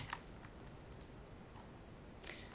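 Two faint, sharp mouse clicks on a computer during CSS web-page editing, one at the start and one near the end, in a quiet room.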